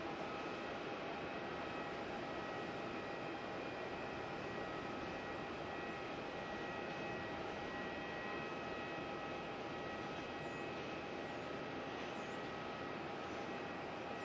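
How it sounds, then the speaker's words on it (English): Jetstar aircraft at Melbourne International Airport, a steady, loud broadband engine roar with a faint whine, continuous and unchanging throughout with no talking. "A lot of horrible Jetstar noise, of course, from being here."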